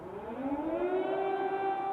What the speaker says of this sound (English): Sirens are now more frequent